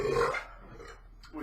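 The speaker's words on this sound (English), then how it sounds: "here comes the foam burps" A short low burp close to the mic, a rumbling belch that fades out after under half a second, with a faint sound at the end.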